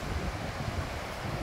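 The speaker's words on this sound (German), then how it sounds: "ein bisschen windig ist es" Steady wind buffets the microphone with a low, continuous rumble and a hiss, no voices, at Playa de Palma, Mallorca.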